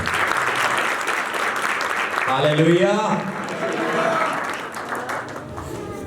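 Congregation applause at a church service on the theme of the secret place, steady clapping under a voice that rises into a loud exclamation midway.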